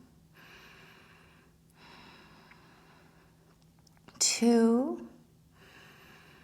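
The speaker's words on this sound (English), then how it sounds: "Let's take 3 deep breaths." One deep, audible breath is drawn and released during a yoga pose, loud and close, while a calm voice counts softly before and after.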